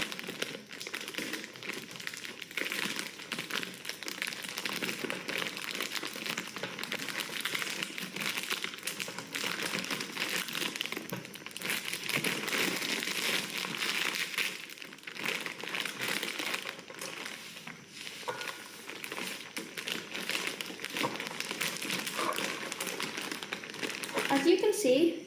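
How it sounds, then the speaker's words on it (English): Steady crinkling and rustling of a plastic package of oats being opened in a kitchen, close and continuous for a long stretch, with a voice talking over it at times. "in the meantime, you can already open the oats."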